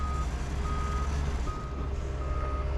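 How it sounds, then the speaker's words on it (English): Heavy machinery rumbles steadily at a landfill where an excavator pulls trash from trailers, with a backup alarm beeping intermittently over the low, continuous engine drone. "So he is really, really good on this excavator right here."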